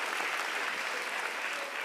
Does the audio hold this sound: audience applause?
yes